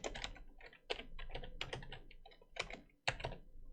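Rapid bursts of typing on a computer keyboard, close and crisp, with quick clusters of keystrokes separated by short pauses and no voices.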